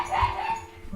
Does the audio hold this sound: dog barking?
yes